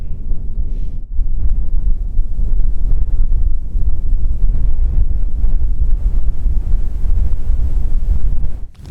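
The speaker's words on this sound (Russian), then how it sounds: "что-то ветрище раздуло вообще конкретно" Strong blizzard wind buffets a frozen lake during winter ice fishing, a loud continuous roar battering the microphone throughout before cutting off at the end.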